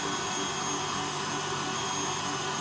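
Electric mixer whirring at a constant high speed while mixing lemon and elderflower macaron batter, a dense, even motor hum that holds steady throughout without pause.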